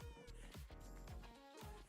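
A quiet Minecraft cat meows in short, tonal cries repeated several times over a soft game background.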